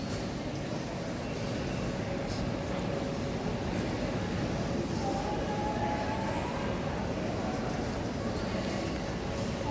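Busy concourse ambience at London Marylebone railway station: a steady wash of distant crowd murmur, footsteps and echoing hall noise, with a constant low rumble and faint brief tones, moderately quiet throughout.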